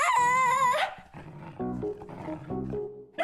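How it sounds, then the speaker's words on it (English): A cartoon dog in a children's animated series gives a loud tonal howl-like growl, followed by shorter rough snarling grunts, close and alone. "Ungrateful dog."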